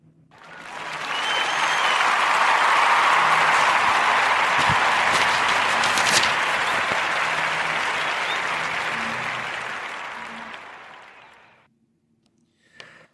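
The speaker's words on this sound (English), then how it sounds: "let's clap it up for young Nicholas Buma" A studio audience bursts into loud, sustained applause that swells quickly, holds steady for several seconds, then gradually fades away to near silence.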